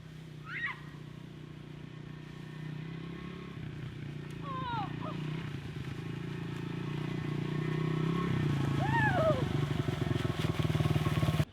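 A $500 budget pit bike engine runs steadily as the dirt bike is ridden in snow, a low buzzing drone that grows louder and closer toward the end, with people talking over it.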